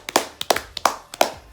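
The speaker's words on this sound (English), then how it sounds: "Come on, let's give Norwich a round of applause, guys." Four quick pairs of close hand claps ring out in an even rhythm, sharp and dry, with brief silences between them.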